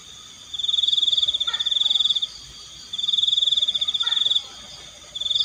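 Night insects and frogs around an old hut at a forest campsite call in loud, rhythmic pulsing trills, each burst lasting over a second and repeating with short gaps, with no talking.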